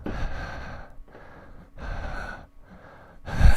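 A voice imitates a low, slow breathing sound heard over a call: four long, breathy exhalations with short pauses between them, close and fairly loud, the last one sharper and heavier.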